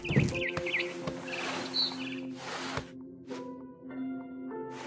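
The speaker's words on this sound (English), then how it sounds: "Then I heard chirping outside my window. It was a barn swallow going back to her nest." Barn swallow chirps and tweets in a video game ring out among game-like background tones, a few bright calls with soft rustling and patter.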